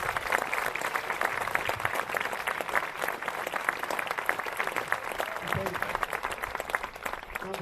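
A crowd of swimmers and supporters at an open-water swim event across the Mersey applauds the volunteers, steady loud clapping throughout, with some voices mixed in.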